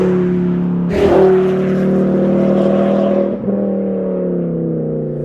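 A Ford Focus RS MK2 engine roars loud and close, holding a steady, throaty rev, surging once near the start and dipping briefly before carrying on.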